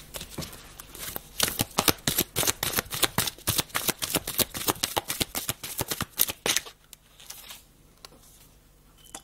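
A deck of playing cards shuffled and drawn: a fast run of crisp riffling clicks and flaps that tapers into a few softer card snaps near the end, close and with no talking.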